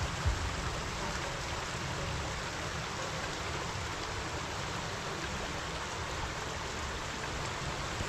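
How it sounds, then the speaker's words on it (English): A creek flows steadily past a campsite, a dense, continuous wash of rushing water that stays even and fairly loud throughout, with no voices. "To the creek down here at campsite"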